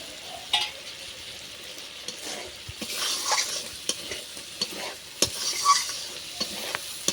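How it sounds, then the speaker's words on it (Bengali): Prawns cook in a spice paste in a pan with a soft, steady sizzle, while a utensil stirs and scrapes in short, irregular knocks, quiet and close. "চিংড়ি মাছগুলো ভালো করে কষিয়ে নেবো"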